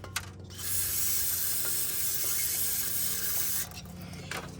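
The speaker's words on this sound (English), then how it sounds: "I'm gonna spray them out with carb cleaner" Carb cleaner sprays in one continuous hissing burst of about three seconds into fuel pump hoses on a Ford 6.0, close and fairly loud, with faint clicks before and after.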